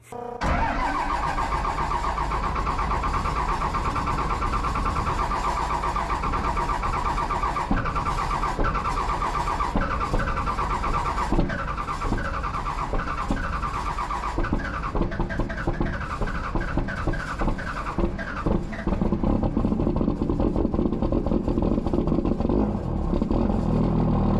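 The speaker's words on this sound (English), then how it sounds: "Cue the cold start portion of the video." A 1000HP 12 valve Cummins diesel engine cold starts, cranking then clattering into a loud, rough, rattling idle that continues steadily and close for over twenty seconds.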